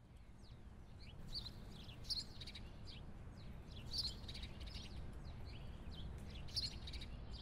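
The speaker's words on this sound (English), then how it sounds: "It was nearly sunrise and the birds were at war. A choir of screeches melded together to form something like a chaotic symphony." Birds call at sunrise outdoors, with faint, scattered sharp chirps and screeches repeating every second or two over a low background hum.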